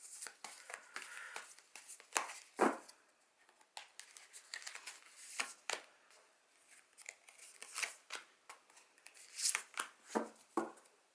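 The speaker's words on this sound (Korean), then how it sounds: "타로 카드를 뽑아보도록 하겠습니다" Large tarot cards being shuffled by hand, a series of close crisp riffles and papery slaps in irregular bursts, with quiet pauses between.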